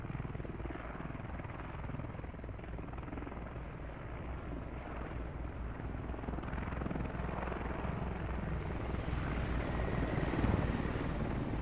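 Mi-8 helicopters pass overhead in the military shooter game Squad, a steady dense rotor and engine roar that swells slightly as they fly over, with no talk.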